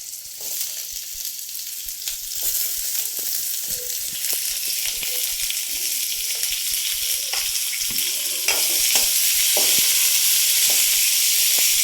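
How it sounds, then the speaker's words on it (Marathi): Onion sizzles in a spoonful of oil in a kadhai, a loud, close, continuous frying hiss with scattered crackles and pops that grows slightly louder toward the end. "आता कढईत आपण 1 चमचा तेल घेतलेलं आहे, त्याच्यात कांदा टाकू."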